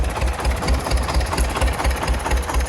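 A small homemade tractor engine runs steadily up close, its low, rhythmic chugging pulsing evenly throughout with no voices.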